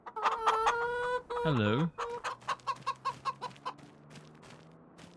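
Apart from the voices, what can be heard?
chickens clucking in Farming Simulator 25 video game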